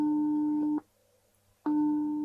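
Two long, steady electronic phone tones sound after dialing, each about three-quarters of a second, separated by a short silence, loud and clear with no talking.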